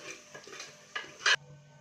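A spoon stirs chickpea masala in a pan, giving a few soft scraping strokes and one brief louder metallic scrape against the pan near the end. The pan sits close by with a faint kitchen hum underneath.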